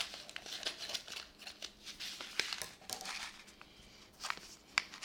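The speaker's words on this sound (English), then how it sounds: "So I need to cut this pack open." Scissors snip and crinkle through a plastic pack of wheatgrass seeds, giving a few short close cuts amid rustling packaging.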